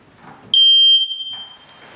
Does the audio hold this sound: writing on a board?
no